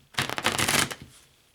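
A deck of tarot cards being shuffled by hand: a close, crisp burst of riffling and flicking card noise lasting about a second, then trailing off, with no talk over it.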